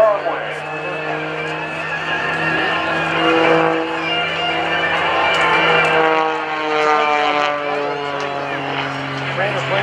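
Aerobatic airplane performing maneuvers at the 2014 NAS Oceana Airshow, its engine droning steadily with a sustained, rising and falling tone while a commentator talks over it.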